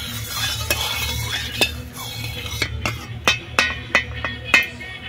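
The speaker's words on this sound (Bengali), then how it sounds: "প্রথমে শাক ভাজা করবো আমি" Leafy greens fry in a small amount of oil in a village-kitchen wok, with a steady sizzle under repeated sharp metal spatula scrapes and clinks, close and loud, in a quickening rhythm.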